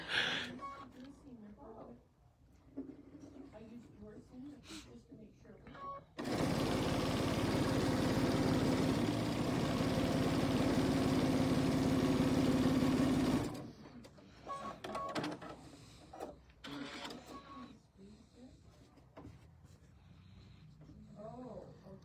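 A sewing machine runs steadily for several seconds as quilt pieces are stitched, loud and close, with quiet talk and handling noises before and after the run.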